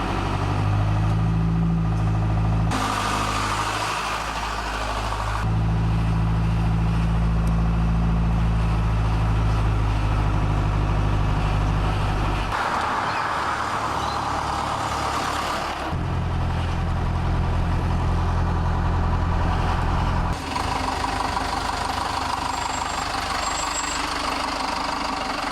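A small classic Chevrolet truck engine idles and revs steadily, loud and close, its low rumble rising and falling in several distinct stretches as it runs, with no voices over it.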